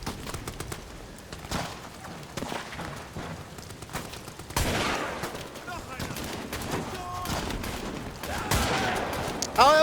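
Gunfire in the horror game Amnesia: The Bunker, shot bursts cracking over a dense, busy wartime battle mix with rumbling explosions, growing louder partway through and ending on a sharp burst.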